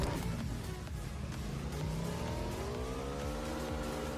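A motorbike engine revs and drones in PUBG Mobile, its pitch climbing steadily in a close, continuous whine with no talking over it.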